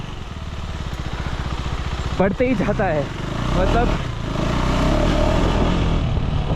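KTM 390 Enduro R single-cylinder motorcycle being ridden, its close, buzzy engine note rising and falling with throttle while someone talks over it.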